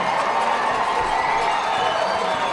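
A sold-out crowd of about 4,000 at a minor-league baseball game in Dunfield, Elmira Pioneers against Batavia Muckdogs, roaring and cheering a win as a dense, steady wash of noise heard from a distance.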